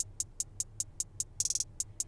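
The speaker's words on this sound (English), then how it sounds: "And this is how my hat sound like." Crisp hi-hat drum sample from a trap-pop beat ticking in an even pattern of short bright hits, with a quick roll of faster strikes in the middle, alone and fairly quiet.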